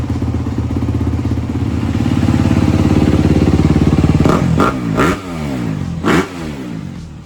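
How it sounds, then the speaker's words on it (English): A rebuilt 2024 Honda CRF250R dirt bike engine runs loud and close, a steady buzzing idle that climbs slightly before several quick throttle blips rev up and fall back near the end, with no talking. "The bike runs great."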